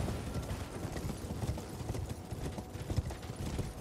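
Horse hooves clip-clop in a steady, even gait throughout the Elden Ring video game, close and continuous, with no talking.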